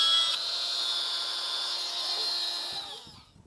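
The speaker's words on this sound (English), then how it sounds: "The Dremel tool again is really easy, it just cuts right through this stuff." A high-pitched Dremel rotary tool whines steadily up close for a few seconds while drilling through the plastic of an Apple MagSafe power cord, then spins down and stops.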